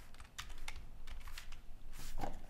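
Fast, close clicking of computer-keyboard keys while writing React code, over a constant background hiss, with a few louder bursts of keystrokes and no speech.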